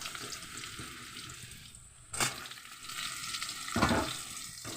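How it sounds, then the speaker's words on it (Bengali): New potatoes fry in a pan with a steady low sizzle, close up. Two louder bursts come from the potatoes being moved or stirred. "আলুগুলো দিয়ে দিলাম আলুটা আমি একটু ভেজে নেব"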